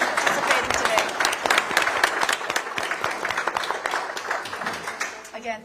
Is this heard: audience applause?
yes